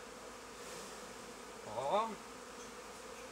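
Honey bees hum around an open hive in a continuous low buzz, with a brief louder pass of a bee near the listener and a short exclamation from a person.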